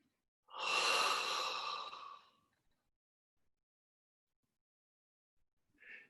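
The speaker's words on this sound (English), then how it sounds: "Let's breathe that in." One slow, deep breath, drawn steadily for about two seconds in a quiet room, with a softer breath starting again a few seconds later.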